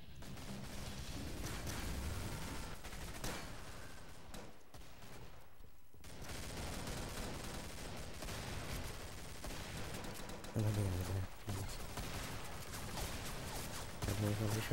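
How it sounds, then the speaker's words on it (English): A shotgun in the video game Killing Floor fires amid a dense, continuous barrage of game gunfire and crashes, several heavier blasts standing out near the end, with a voice talking over the din. "Shotgun, not doing anything"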